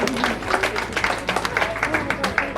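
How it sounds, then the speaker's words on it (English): A crowd applauds a speaker at a speech event, uneven clapping and a few louder claps sounding near, mixed with talk and some crowd noise. "Est-ce qu'on peut l'applaudir encore une fois,"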